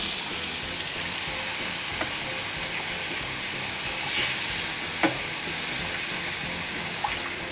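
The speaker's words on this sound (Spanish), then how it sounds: "ya está bien tostada la harina, así que vamos a ir añadiendo la leche" Milk is stirred into toasted flour for Iberian ham croquettes, making a steady close sizzle and bubbling with a few sharp clicks of the utensil.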